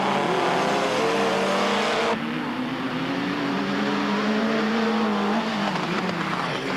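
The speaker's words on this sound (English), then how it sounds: "Mr. Kunio Sataki, drops the flags to send them on their way in the grueling 9-hour marathon." Race cars roar off the start of the 1988 Bridgestone 9-hour endurance race, a dense, loud wall of engine noise with a sharp cut partway through, then sustained droning as the field pulls away.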